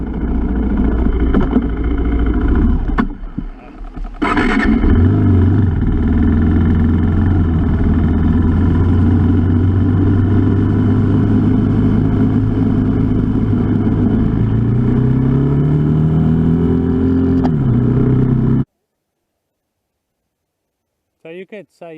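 A car rolls past close by on a cement river crossing in the Australian outback, its engine loud and steady and rising in pitch before cutting off abruptly, with voices talking over it near the start.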